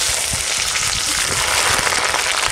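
Chopped onion and ginger-garlic paste hitting hot oil with dried chilli, cumin and whole garam masala for a village mutton dish, a loud, dense, continuous sizzle up close with light stirring underneath.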